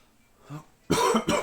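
Two harsh coughs close to the microphone after a brief quiet throat sound.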